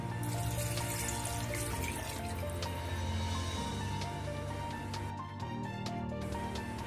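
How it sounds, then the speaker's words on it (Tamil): Mutton stock pours steadily into a pot for several seconds, a continuous close splashing wash over a low background hum. "மட்டன் வேக வச்ச தண்ணி கொஞ்சம் ஒரு 4 கப் இருக்குது,"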